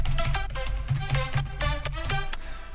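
Short, bright plucked synth notes in a progressive house track repeat in a quick, bouncy pattern over a low pulsing bass, each note snapping in and decaying fast.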